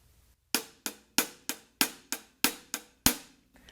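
Drum set strikes hit in an even, steady pulse, about eight sharp cymbal-like attacks with fast decay played one after another, close and alone, as a rock beat of continuous eighth notes on the hi-hat.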